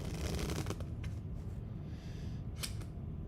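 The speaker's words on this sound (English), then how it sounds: "this would be my favorite false shuffle, just as a shuffle itself" Playing cards being shuffled in a false shuffle, a soft steady riffling and sliding of cards close by, with a few sharper flicks, quiet and alone.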